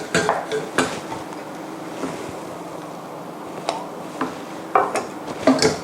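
Eggs beaten in a bowl for Thai thong phlu dessert: sporadic clinks and scrapes of the utensil against the bowl rise over a soft, continuous swishing.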